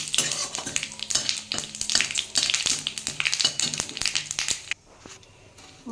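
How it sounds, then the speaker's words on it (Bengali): Dry red chilli and white cumin seeds sizzle and crackle in hot oil in a pan, a busy, close frying hiss with popping taps and stirring that dies down abruptly near the end. "ওই তেলের মধ্যে আমি একটা শুকনো লঙ্কা ফোড়ন দেবো, আর একটু সামান্য সাদা জিরে দেবো।"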